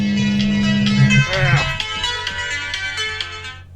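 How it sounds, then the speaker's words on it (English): Mobile phone ringtone ringing: a loud melodic electronic tune with a repeating bright pattern, sounding close and alone, fading slightly toward the end. "Sorry guys, that was my phone."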